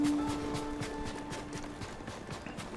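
A horse gallops in the samurai video game Ghost of Tsushima, its hooves beating out a quick, steady rhythm of clopping strikes over a tonal ambient backdrop.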